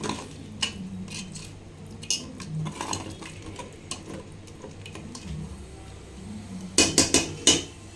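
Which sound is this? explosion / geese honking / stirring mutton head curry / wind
stirring mutton head curry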